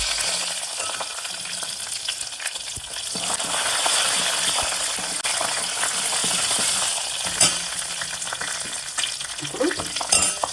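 Curry leaves and dried red chillies fry in hot oil for a fish rava fry dish, giving a loud, steady sizzle with occasional stirring scrapes throughout.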